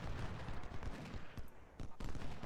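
Cannon and rifle fire from the Ultimate General: Civil War game: a rapid barrage of overlapping gunshots and booming reports, fairly loud and continuous, with short pauses near the end and no speech.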